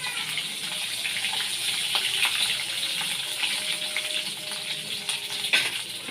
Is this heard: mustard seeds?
yes